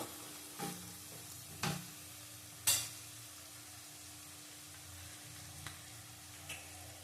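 Whole chillies and spices fry quietly in oil for a Bengali tengra fish curry with cauliflower and potato, a soft low sizzle punctuated by a few sharp clinks and taps of a utensil.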